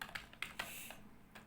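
Quick, light keystrokes on a computer keyboard while code is being entered, several close clicks in short irregular bursts with no voice.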